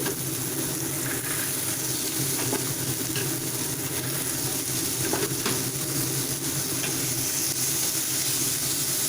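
Boiled peas sautéing in a pan for samosa chaat give off a steady sizzle and hiss of frying. It runs continuously at moderate loudness and close by, with faint stirring clicks and no talking.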